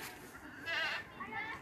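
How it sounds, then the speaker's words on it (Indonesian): A goat bleats once, a wavering nasal cry, at an outdoor learning and outbound site in Kampung Inggris, Pare, with someone talking around it. "Ada juga embek kambing"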